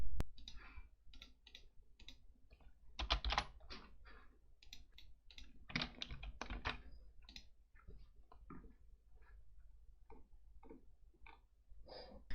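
Mouse clicks and keyboard taps while working in the Microsoft Azure software interface, sharp and close, falling in irregular bursts with short pauses between them, and no talking.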